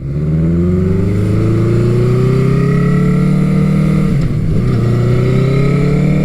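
A Honda CB900 Custom motorcycle pulling away in first gear of its ten-speed transmission, the engine loud and close, revving steadily upward before a brief dip at a shift, then climbing again.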